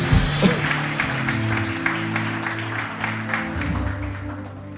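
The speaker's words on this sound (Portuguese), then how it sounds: "Dá uma salva de palmas ao Senhor, em nome de Jesus" Church congregation giving a round of applause during a sermon, a continuous crowd clapping over sustained keyboard chords, loudest at the start and gradually easing.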